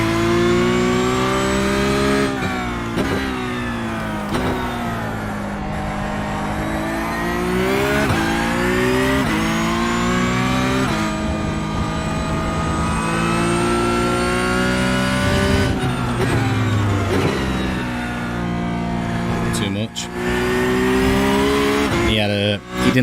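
Porsche Cup race car engine in the iRacing sim at Interlagos, loud and continuous, rising and falling with upshifts and revving out of corners, with occasional tyre squeal and a voice talking over it.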